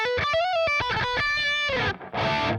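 Distorted electric guitar with its tone knob turned fully open, bright and cutting; a close run of picked notes and held phrases ending in a strummed chord, played alone without talk.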